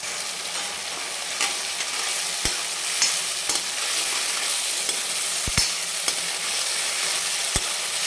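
Chili masala sautés in oil for Kashmiri dum aloo, a steady close sizzle punctuated by sharp spoon taps and scrapes against the pan at irregular intervals.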